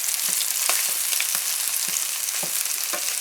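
Sausages browning in oil in a pan: loud, steady close sizzling and crackling with regular soft pops and scrapes as they are turned, no voices.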